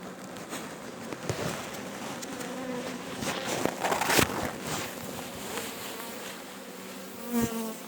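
Honey bees at an open beehive buzz in a dense, continuous hum close by, with individual bees droning past, plus occasional light knocks and crackles from handling the hive frames.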